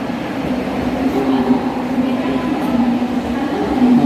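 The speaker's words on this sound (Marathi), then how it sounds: "ट्रेन आली." A crowded Mumbai local train pulls in with a loud, steady rumble and a droning hum that hold for the whole stretch. A faint murmur of people sits underneath.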